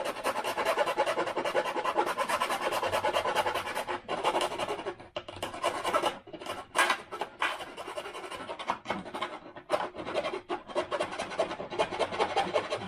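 Scratching and rasping as a hole in the internal web of a Wingnut 850 model plane wing is cleaned out and chamfered for a servo wire: continuous close, busy scraping strokes with short pauses, no talk.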